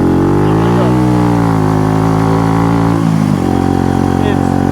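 Honda CB125 cafe racer motorcycle engine droning loudly and steadily while riding, pitch rising then dropping sharply near the end as it shifts or eases off, with a voice talking over it.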